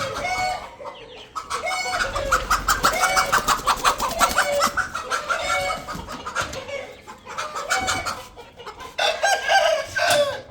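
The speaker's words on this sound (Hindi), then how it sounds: "ओ कुकड़ी उत्ते फंस गई।" A hen caught up high clucks loudly and keeps squawking in agitated bursts, with other chickens and a rooster calling around it in a busy, close barnyard chorus.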